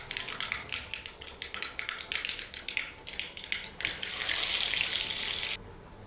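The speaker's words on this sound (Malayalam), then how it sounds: "ഇനി നമുക്കിതിലേക്ക് ചെറുതായി അരിഞ്ഞ് വെച്ചിരിക്കുന്ന വെളുത്തുള്ളിയാണ് ഇട്ട് കൊടുക്കുന്നത്." Chopped garlic sizzles in hot oil with mustard seeds, a steady crackling fry with scattered pops that swells into a dense hiss before cutting off abruptly near the end.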